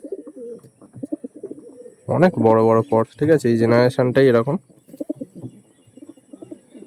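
Pigeons coo in a loud, rich burst in the middle, several throaty repeated calls near at hand, with someone talking before and after.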